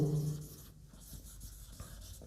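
A pen scratching math onto paper, a soft continuous scribble of strokes and small taps, close and quiet, with a brief voice fragment right at the start.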